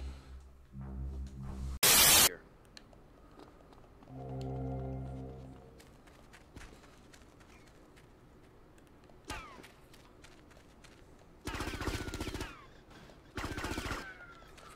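Gunfire in the GTA Vice City video game: sharp isolated shots and longer bursts of rapid automatic fire break out intermittently over a murky game backdrop with tonal hums, loud and close, with no talking.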